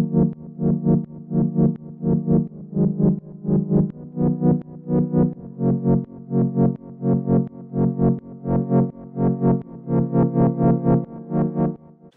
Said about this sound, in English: And when you add the sidechain it sounds like this.